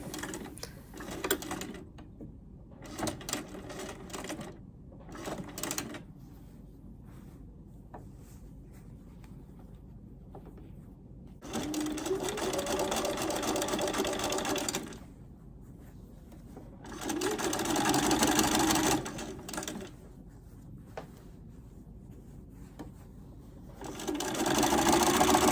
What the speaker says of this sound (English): then I start stitching on my machine, and I do a little back stitch just to secure the stitch